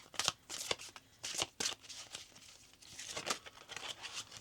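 A deck of oracle cards being shuffled up close, quick papery riffles and flutters in irregular bursts with soft slides and rustles between, no one talking.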